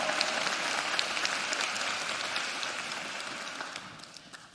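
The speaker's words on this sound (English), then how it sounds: "just keep clapping for StepUp" An audience at a ministry impact luncheon keeps clapping in a sustained, even round of applause that starts full and slowly tapers off toward the end, heard without speech.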